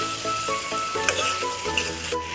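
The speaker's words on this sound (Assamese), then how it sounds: "এতিয়া মছলাখিনি ভালকৈ ভাজিব দিম।" Spice paste sizzles in hot oil for an Assamese-style jackfruit fry, a loud, continuous frying hiss with faint stirring scrapes and no voices.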